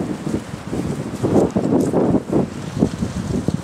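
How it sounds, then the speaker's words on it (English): Gusty wind rumbles and buffets the microphone in uneven bursts, loud and close, with a faint rustle underneath, outdoors in downtown Springfield, Illinois. "It's crazy windy."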